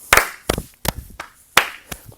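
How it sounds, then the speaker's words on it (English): Hand claps in a rhythm for a 4th grade music class, several sharp close claps in an uneven beat pattern with softer taps between, no talking. "watch for that clap if you need help"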